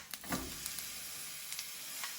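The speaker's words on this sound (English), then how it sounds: "you want to hear a nice sizzle similar to that" A faint, steady sizzle hisses as steak cooks in a hot pan, with a few soft pops and crackles scattered over the quiet frying.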